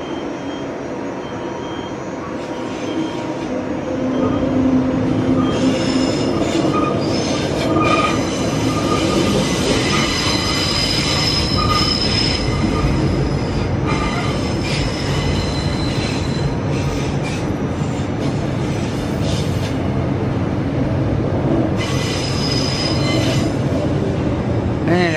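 A train pulls into Park Road/Boggo Road Station in Brisbane, its wheels squealing steadily against the rails over a continuous, loud rumble of rolling railcars, with no talk.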